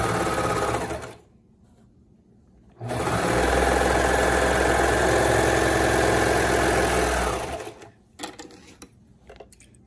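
Sewing machine stitching fabric for tie-side shorts: a short motor burst, a pause, then a long steady whirring run of close, loud stitching that stops abruptly, followed by faint handling noises.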